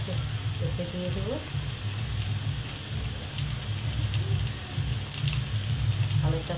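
Boiled potatoes frying in a pan with curry leaves, a steady close sizzle throughout with occasional stirring scrapes.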